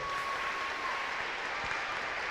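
A school crowd applauds the nominees at an awards event, a soft, even spread of clapping, fairly faint and distant, lasting a couple of seconds without speech.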